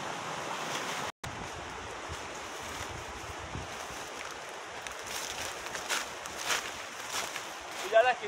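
A waterfall gives a continuous broadband rush of falling water that stays steady and fairly loud throughout, with brief surges and a faint voice near the end.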